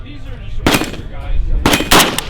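Two sharp gunshots at an outdoor shooting range ring out during a test of an MSE AQC-1 multi-reticle red dot sight. Each shot is loud and close and is followed by a short echoing tail, with faint talk in the background.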